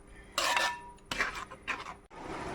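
A metal lid clinks onto a pot of Kerala-style banana payasam, several short bright clattering knocks in close succession, near and fairly loud, with no talking.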